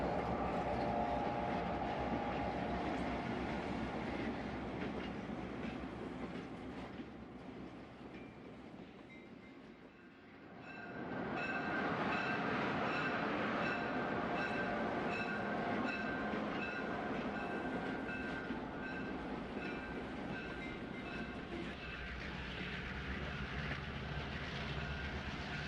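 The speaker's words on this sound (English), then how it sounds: "An SP-260 will slide by with a special fan trip passenger train." Model railroad SP-260 locomotive hauling a passenger train: a continuous rumbling run that dips briefly, then returns steady and close, with no talk.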